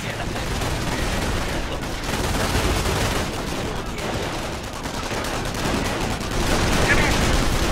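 Dense, continuous gunfire in the World War II strategy game Company of Heroes, a machine gun rattling amid fusillades and battle noise, loud and sustained throughout with faint voices mixed in.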